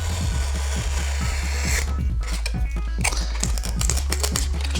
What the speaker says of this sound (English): Now we can carefully cut a bevel cut through our elevons.